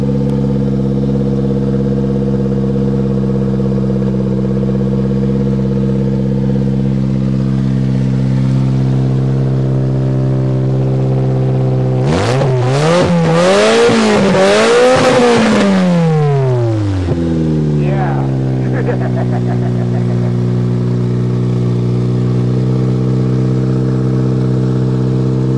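Toyota car engine idles steadily up close, then revs sharply a few times in rising and falling bursts before settling back to a smooth idle.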